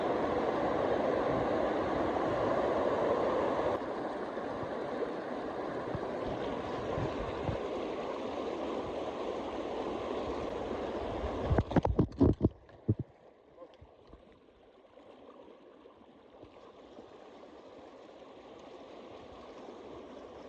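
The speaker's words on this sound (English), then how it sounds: "Creek crossing number 2 for the day." A creek flows at a hiking crossing in the 100 Mile Wilderness on the Appalachian Trail, a steady rushing wash of water that cuts off abruptly after a few clattering knocks, leaving a faint hiss.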